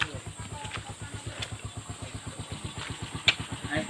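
A motorcycle rides along a rough forest road being cleared of felled trees, its engine making a steady, close, pulsing chug with a brief sharp knock near the end.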